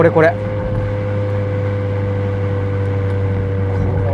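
A Honda Civic Type R FK7 with an HKS Hi-Power Spec L2 muffler drones at steady cruise, with a low, even exhaust hum inside the car and a brief voice at the start.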